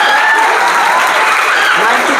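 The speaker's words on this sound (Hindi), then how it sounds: "एक बार जोरदार ताली बजाइए" A loud, close burst of applause from a crowd at an event honoring a student, with dense clapping that holds steady for about two seconds and no talk over it.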